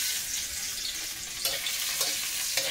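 Lightly crushed garlic sizzles in hot oil as a tempering, a continuous crackling fry with a few sharp spoon taps against the pan, close and alone without speech.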